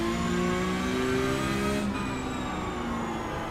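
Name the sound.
race car tire scrub in a racing video game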